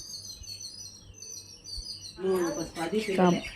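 Several pet birds at a house full of plants chirp and tweet in bright, repeated calls, then a person starts talking as the chirping carries on faintly behind.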